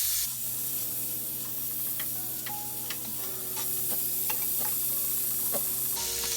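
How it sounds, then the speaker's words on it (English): Butter and garlic melt in a hot pan, giving a loud, steady sizzle dotted with small pops and light utensil clicks, with no voices. "So you're just going to lightly roll your butter around and melt it"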